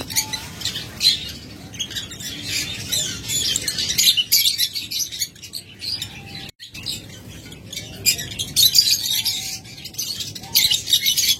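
Pet birds kept in breeding pairs at a bird seller's chirp and tweet continuously, a busy overlapping chorus of bright calls that swells and dips, close by, with no talking.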